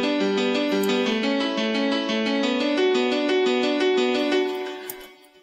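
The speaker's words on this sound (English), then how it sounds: "I made a simple piano with the arp," FL Keys, the standard FL Studio piano plugin, playing an arpeggiated melody with added effects: steady even rolling notes over held low tones, clear and solo, fading out at the end.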